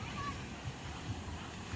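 Steady rushing water and breaking waves of a strong current at a swimming spot, a continuous roar with wind noise on the microphone.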